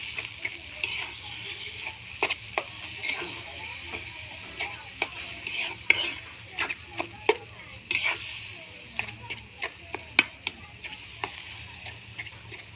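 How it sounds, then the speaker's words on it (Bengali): Spinach greens added to onions fry gently in a pan, a soft sizzle under repeated clear taps and scrapes of a spatula stirring at an irregular pace. "এখন আমি শাকটা দিয়ে নেব, পেঁয়াজ হয়ে গেছে।"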